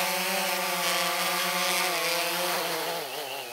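A loud, steady drone of a small quadcopter's buzzing rotors hums close by, its pitch wavering and dipping near the end.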